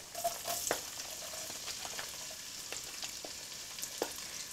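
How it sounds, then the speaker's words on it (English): Onions fry in a pan with a soft, continuous sizzle, broken by a few faint clicks and pops. The sound is close but quiet, and no one speaks. "Fry your onions till it's soft."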